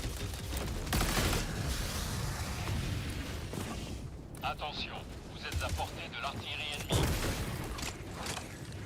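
An autocannon fires in a video game as a steady barrage of heavy, booming rounds that rumble across the clip, with a person talking over the gunfire throughout.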